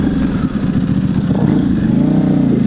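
A 2009 Buell 1125R motorcycle runs on a freeway, its engine a steady, loud, close throbbing drone with slight rising revs, mixed with wind rush.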